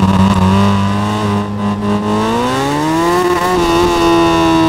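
A 2024 Suzuki Hayabusa sport motorcycle accelerating hard on a highway during a top-speed drag run, its loud engine note climbing steadily through the revs with a brief dip, close and continuous.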